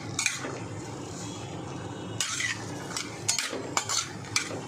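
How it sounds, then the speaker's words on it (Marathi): Almonds and dates roast in ghee for dry-fruit laddoos, with a spoon scraping and clinking against the pan in irregular strokes over a soft background sizzle. "हे बघा आपण आता हे सगळे भाजून घेते मी चांगलं तुपात."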